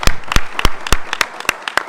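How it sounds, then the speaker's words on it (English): A few sharp, distinct hand claps ring out at a steady pace during a conference session, clear and close rather than blending into dense applause. "please give him another round of applause"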